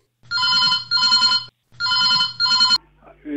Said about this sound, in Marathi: सर, आता आपल्याला एक फोन कॉल आलेला